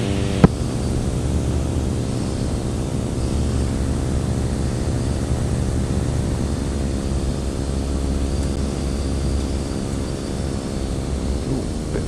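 A microlight aircraft on final approach to runway 10, its propeller engine droning steadily and evenly throughout, close and continuous with no break.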